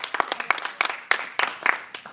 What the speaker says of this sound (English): let's welcome Mollie back for her final speech for the opposition with a round of applause